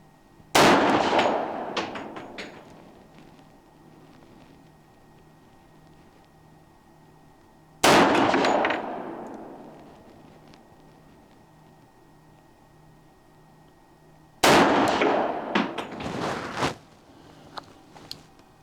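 Three single pistol shots from a Colt Gold Cup National Match, fired several seconds apart on a range, each a sharp loud crack with a short ringing decay followed by near silence.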